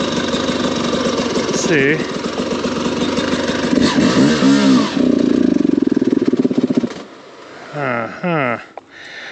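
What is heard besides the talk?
motorcycle engine idling and revving, stalling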